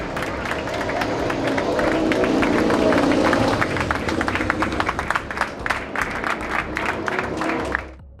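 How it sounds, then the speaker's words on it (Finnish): Crowd of fans in a MotoGP paddock at the Qatar round cheers and applauds steadily, dense clapping and whoops with babble throughout, fading out at the very end. "Varikko toivottaa hänet tervetulleeksi, fanit hurraavat."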